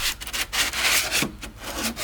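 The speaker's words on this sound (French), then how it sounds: "J'ai utilisé un guide de ponçage et cette ponceuse, merci Slim." A sander working filler on the body of an old convertible car, close and loud, with repeated rasping strokes in an uneven back-and-forth rhythm.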